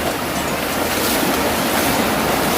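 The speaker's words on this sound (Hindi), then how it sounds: "पहाड़ों के दरमियान में से ये एक नदी गुज़र रही है जो बहुत ज़्यादा खूबसूरत है और बहुत साफ़ पानी." Clear mountain river rushing between hills near Moola Chotok waterfall in Balochistan, a steady, loud, broadband wash of flowing water close by, unbroken and with no voices.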